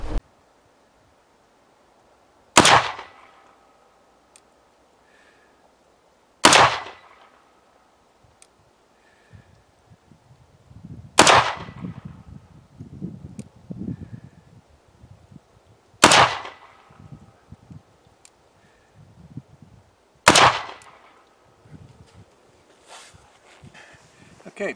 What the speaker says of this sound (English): Let's get a few rounds down range, see where the optic is, and then we'll make some adjustments